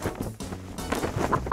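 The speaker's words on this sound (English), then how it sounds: "A rooster makes a cock-a-doodle-doo sound." A rooster clucks and calls close and loud, a short burst of harsh fowl sounds without the full drawn-out crow.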